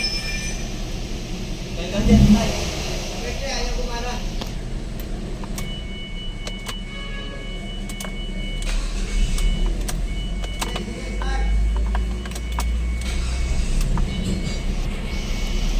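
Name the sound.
Ford Escape engine running after fuel pump repair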